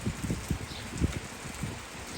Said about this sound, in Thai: วันนี้ก็ฝนตก ตอนเย็นอีกแล้วนะคะวันนี้